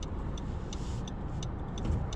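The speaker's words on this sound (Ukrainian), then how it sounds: "І так, пропустимо зараз автомобіль." A car passes on a residential street in Calgary, a steady faint road rumble with soft tonal ticks above, heard from inside another vehicle with no talk.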